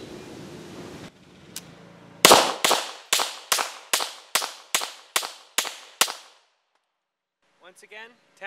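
Ten sharp shots from a tuned Browning High Power 9mm pistol with an SFS kit, fired at a quick even pace, loud and close, followed by a brief pause and a faint voice at the end.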